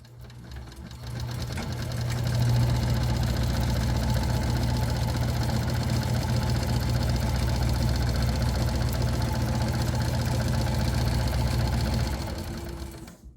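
A sewing machine stitches a messenger bag seam at a half-inch allowance, running steadily and loudly for about ten seconds with a low mechanical hum and fast needle rhythm, easing off at the end.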